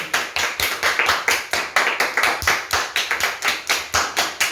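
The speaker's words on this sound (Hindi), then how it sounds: "तालियां रुकनी नहीं चाहिए" Audience clapping in rhythmic bursts at a game-show style event as a bonus prize is handed out, loud, close and steady throughout without talk.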